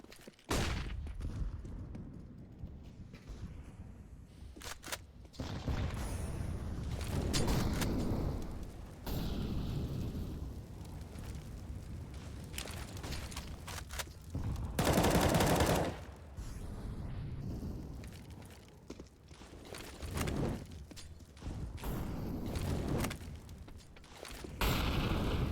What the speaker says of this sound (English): Teams exchanging quite a bit of nades and utility.